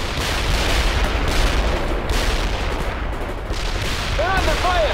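Continuous heavy gunfire and explosions rumble through a modern war video game battle over an enemy farm, dense and loud throughout, with faint voices shouting over the din.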